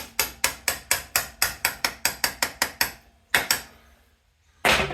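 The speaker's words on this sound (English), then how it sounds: "I'll find my little brass hammer here" A brass hammer strikes metal on a Honda C70 in a fast run of about a dozen sharp, ringing blows, then a pause, two more hits and a final strike.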